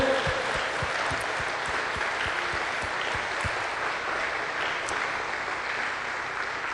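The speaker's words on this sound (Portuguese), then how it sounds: "Dê um aplauso ao Senhor." Congregation applauding the Lord during a church service, a dense, steady wash of clapping from many hands that fills the whole stretch at an even, fairly loud level, with a few sharper individual claps standing out.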